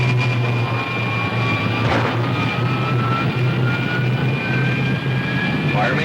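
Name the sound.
rocket ship jet engines firing, radio drama sound effect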